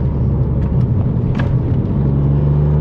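A Ford Fiesta ST Performance Edition hot hatch takes a sharp bend, heard from inside as a steady, loud low engine and road rumble with no breaks.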